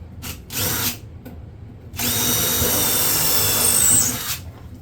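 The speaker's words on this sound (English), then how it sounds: "I'm going to drill another hole." A power drill whirs in two short bursts, then drills steadily into wood for a couple of seconds, close and loud, before winding down.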